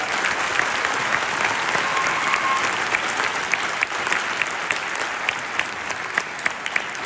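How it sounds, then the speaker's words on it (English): A crowd applauds at a school winter band concert, a steady, even wash of many hands clapping with scattered louder claps throughout, no talking on top. "Let's give them a big round of applause as well."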